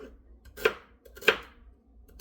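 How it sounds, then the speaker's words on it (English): A knife chops celery on a cutting board in three sharp, evenly spaced strikes, close and crisp, with quiet pauses between them. "I didn't want to make any big pieces of celery, so I had to chop it up little"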